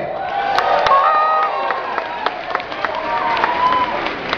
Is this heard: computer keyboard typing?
no